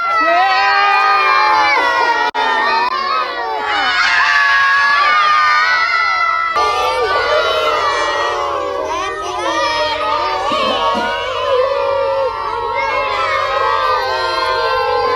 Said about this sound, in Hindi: एक्साइटमेंट इतना है, लगातार 5 मिनट तक सिर्फ हूटिंग ही हुई है